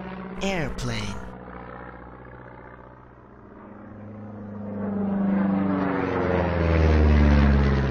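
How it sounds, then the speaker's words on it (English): An airplane's engine drone swells steadily louder, approaching and filling the space with a deep, roaring hum after a brief sweeping sound at the start. "Airplane."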